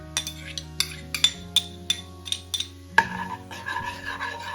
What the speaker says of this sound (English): my crushed garlic as well to go in there.